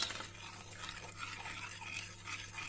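A whisk stirs a milk mixture for a brownie cake batter, making soft, rhythmic swishing and faint scraping strokes at a quiet, close level with a low background hum.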